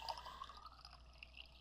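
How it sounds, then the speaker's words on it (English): Water trickles faintly into a container in the adventure game Runaway: A Road Adventure, a quiet, thin pouring and dripping sound with no talking. "And I want to fill this up with water."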